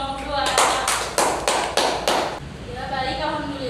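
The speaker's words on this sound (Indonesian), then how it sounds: "Kita beri tepuk tangan untuk kelompok 2." A class of young primary-school pupils claps for a student group after its presentation, giving a short burst of about six sharp, evenly spaced claps in a loud, close room, followed by quieter room sound.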